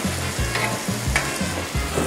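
Pork with gochujang being stir-fried over high heat, Korean jeyuk bokkeum style: a loud, constant sizzle broken by rhythmic low scraping strokes of the spatula, close up and with no talking.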